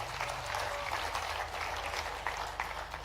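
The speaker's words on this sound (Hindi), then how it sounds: "एक बार जोरदार ताली बजा करके" A seated audience of traders at a Bhopal event with Chief Minister Mohan Yadav gives steady, moderately loud applause for about three seconds over a low electrical hum.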